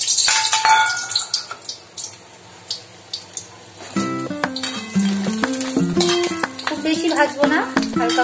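Vegetables are lightly fried in a pan with bay leaf and radhuni spices for traditional Bengali dudh shukto, giving steady sizzling and stirring with scraping clinks, becoming louder and busier midway.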